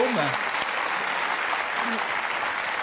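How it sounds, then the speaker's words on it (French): Studio audience on a French television show applauding steadily, a uniform wash of clapping for about three seconds after a brief voice at the start. "Safo, Bernard Hinault, on peut les applaudir."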